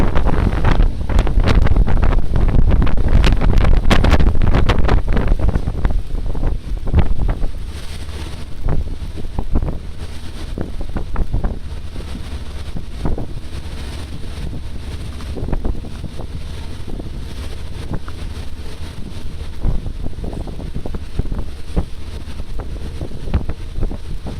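A 2009 Leopard 47 power catamaran runs at full power into wind and waves, its loud steady engine roar mixed with rushing water and heavy wind buffeting on the microphone, loudest in the first seven seconds then easing slightly.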